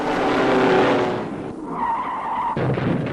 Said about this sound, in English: De nombreux dérapages et quelques incidents